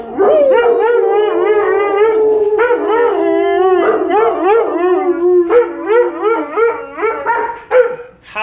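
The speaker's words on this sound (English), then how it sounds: "Howl for me, howl!" Dogs howl loudly and close up in long, wavering, overlapping cries that rise and fall, with breaks between howls and some shorter yips toward the end.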